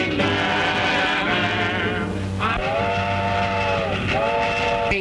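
A train running on the rails in a 1929 comedy short, a loud continuous rumble that is joined partway through by two sustained whistle blasts, the second following soon after the first.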